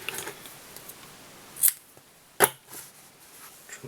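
Scissors trim a small bunch of grey material, two sharp close snips standing out against a quiet background with faint handling rustle.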